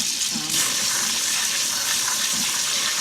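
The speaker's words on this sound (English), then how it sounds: "So just give those a rinse." Steady running tap water rushes and splashes as canned black beans are rinsed under it, a continuous loud gush with no pauses.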